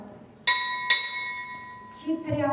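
A bright ship's bell rings twice in quick succession at a US Navy chief pinning ceremony, each strike ringing on and decaying, followed by a voice beginning to speak.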